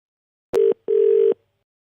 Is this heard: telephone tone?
yes